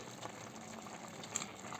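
A pot of vegetable stew simmers on the stove, a faint, steady bubbling hiss with a small pop now and then, no voices.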